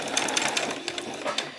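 Rapid rhythmic needle clatter of a sewing machine stitching a buttonhole with the buttonhole foot down, a short close burst of evenly spaced stitches.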